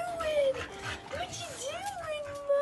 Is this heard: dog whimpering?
yes